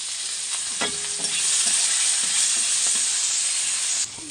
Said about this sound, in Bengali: আর এই যে পেঁয়াজ আর লঙ্কাটাও দিয়ে দিচ্ছি,